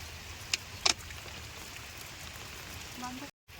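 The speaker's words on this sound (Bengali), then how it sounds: "চারিদিকে কি বৃষ্টি শুরু হয়ে গেছে বর্ষাকালে জমজমানি বৃষ্টি শুরু হয়ে গেছে" Monsoon rain falls as a soft, constant wash of patter, with a couple of sharp knocks early on and a brief cut near the end.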